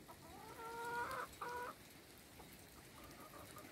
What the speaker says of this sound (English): And the chickens taking shelter at the back door.